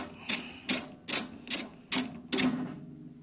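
Six evenly spaced ratcheting clicks from a tool turning the nut on the grill element of an AEG 49106IU-MN oven, crisp and close with short gaps between each stroke.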